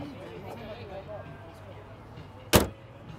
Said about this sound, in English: I'm gonna put the hood down.